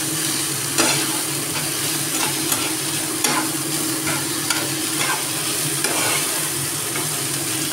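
Pizza sauce is stirred in a pan with a spoon: steady close scraping strokes over a soft continuous sizzle, with a few sharper clinks along the way and no talking.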